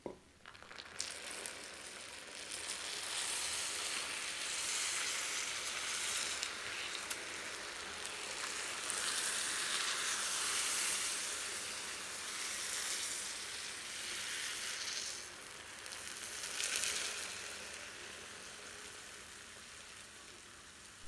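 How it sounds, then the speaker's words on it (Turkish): Cold syrup is poured over hot, freshly baked hand-rolled walnut burma baklava, giving a steady, bright crackling sizzle that swells and fades over about twenty seconds, with no talking. "şimdi tatlı sıcak şerbet soğuk olarak buluşturalım"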